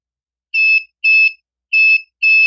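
A DC bench power supply's over-current protection buzzer beeps four times in two pairs, each beep a short, loud electronic tone against silence.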